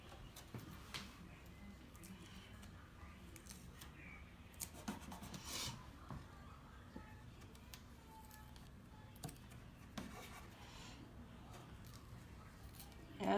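A small wooden stick rubs over an IOD transfer medallion, giving soft, close scratchy strokes in a steady back-and-forth rhythm with a few light taps and clicks, no talking.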